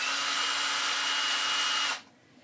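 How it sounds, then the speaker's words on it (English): A power drill whines steadily at close range for about two seconds, then cuts off sharply, leaving near silence. "you're going to be using a drill"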